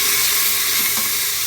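Frozen green peas go into a pot of lightly browned onions, making a steady, broadband sizzle and hiss that holds at an even level throughout with no talking.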